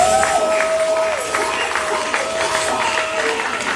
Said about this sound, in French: Applaudissez pour Mon Désir, s'il vous plaît.